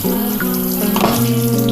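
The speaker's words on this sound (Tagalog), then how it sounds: "Hugasan muna natin ang ating mga pinanggamitan." Tap water runs steadily into a sink while used utensils are washed, a close, continuous splashing stream with a faint clink partway through.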